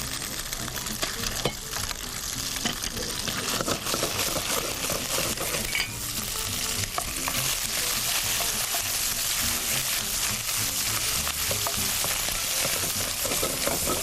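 Ginger, garlic, fish and prawns fry in cooking oil, giving a continuous close, loud sizzle with occasional clinks of a utensil against the pan.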